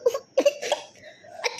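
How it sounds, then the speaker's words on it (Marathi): A person coughs several times in short bursts, close and fairly loud, in a quiet room with no talk. "मला खोकला आला म्हणून हा पण"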